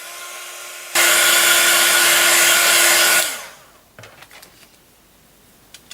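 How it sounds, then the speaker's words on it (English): A heat tool blows hot air to dry paint on terracotta clay, a loud steady whirring roar for about two seconds that winds down, followed by faint light handling noises. "give that a quick blast with our heat tool"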